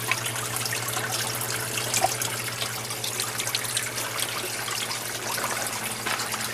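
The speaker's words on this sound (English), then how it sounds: "Here's the drip system. See how water's coming out? Each one of them." Water trickles and drips from the emitters of a homemade hydroponic bucket drip system, a continuous close gurgle over a faint steady pump hum.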